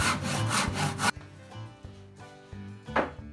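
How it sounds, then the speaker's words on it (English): Handsaw cutting through a wooden thrift-store corner cabinet, rapid rasping back-and-forth strokes close up for about a second, then pauses with light knocks and a final short stroke, with no talk. "Cut the piece in half with a handsaw, and remember to take your time for the best result."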